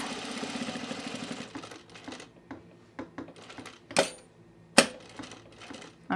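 A sewing machine stitches a kid's zip hoodie, starting with a rapid run of needle strokes, then slowing into scattered single stitches and clicks with a couple of sharp knocks from handling.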